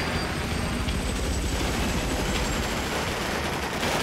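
A helicopter in the Battlefield 4 campaign roars loudly and steadily, its dense rotor and engine rumble filling the scene without any speech over it.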